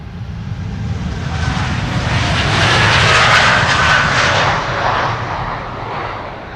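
An airplane departing Amsterdam Schiphol Airport gives a loud jet roar that swells to a peak mid-way, then eases off as it passes, heard close with no voices.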